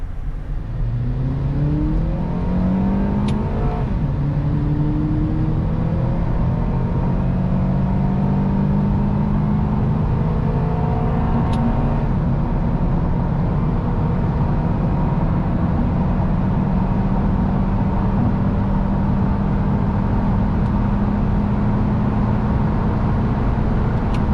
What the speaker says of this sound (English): the car is manually in first right now, and I'll be shifting it manually